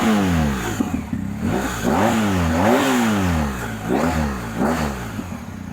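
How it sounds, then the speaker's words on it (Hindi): A BMW R1250 GSA adventure motorcycle engine is blipped repeatedly from idle, rising and falling in several sharp revs up close, loud and alone. "एक बार आइडल से थोड़ी नीचे जाती है, फिर आपको पूरी आवाज़ सुनाता हूँ रैप करके।"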